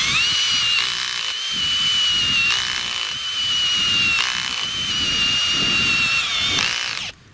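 A power drill whines loudly and steadily, its pitch dipping briefly several times as it bores, before cutting off at the end.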